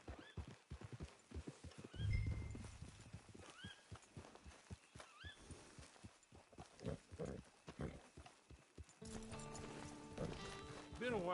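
Horse hooves clip-clop in steady, rapid rhythm in Red Dead Redemption 2 Online, with a whinny and other game sounds around them, before music swells near the end.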